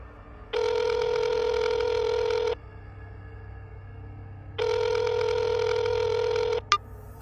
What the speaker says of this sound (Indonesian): Ya udah cari kontaknya, dia telepon tuh.